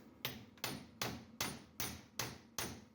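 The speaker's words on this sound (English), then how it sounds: "Let me get a punch and a hammer." A hammer strikes a punch on an axle shaft of a Chevy Colorado truck, giving seven sharp metallic blows at an even, unhurried rhythm, close and alone.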